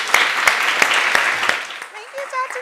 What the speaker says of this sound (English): I'm going to ask you to give a round of applause to both our panel and to Jade Felder